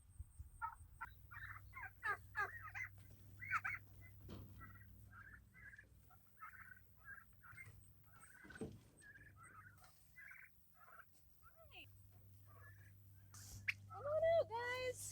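Young farm turkeys and chickens penned together, a busy chorus of short chirpy peeps and gobbling trills repeating in quick bursts close by, over a low steady hum, with a person briefly talking near the end.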